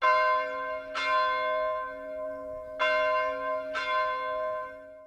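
Original bell of a 1904 Methodist church struck three times, each clear metallic strike ringing out and decaying slowly, loud and close with no talk.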